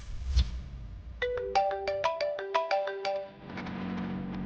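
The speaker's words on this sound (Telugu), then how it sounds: "అత్త ఫోన్ చేస్తుంది." Mobile phone ringtone for an incoming call plays a bright melodic sequence of rapid electronic tones, fairly loud and alone, after a brief knock at the start.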